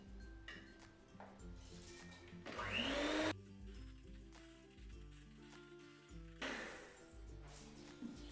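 A blender whirs as it beats sugar and cream for a fruit pavê. The motor surges louder in two bursts over a steady background of music.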